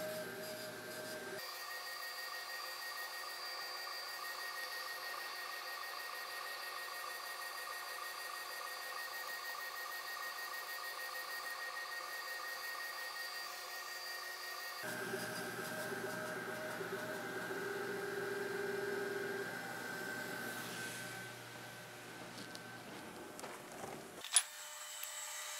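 An xTool laser engraver runs steadily at real-time speed, giving a faint, continuous mechanical whine and hum with shifting tones, plus a brief sharp click near the end.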